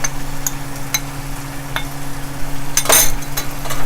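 Chana masala with turmeric and red chili is stirred in a pan, with quiet scraping, a soft sizzle and several light metallic clinks, plus a louder clatter near the end.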